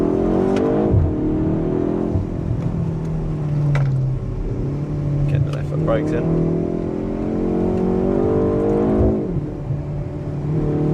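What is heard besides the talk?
BMW car engine revving, heard from inside cabin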